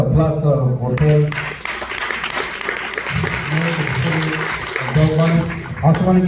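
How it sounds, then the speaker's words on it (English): Audience at a town hall supporting immigrant workers breaks into applause, a broad clapping wash under and between a speaker's voice, which talks at the start and again near the end. "Another applause to Jorgel."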